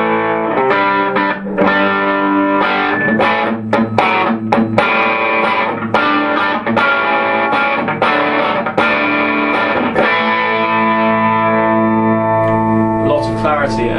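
Electric guitar from a Suhr S4 plays through an Egnater Tweaker amp on its clean gain and vintage master settings: loud, continuous picked notes and chords that ring out, closing on a sustained chord.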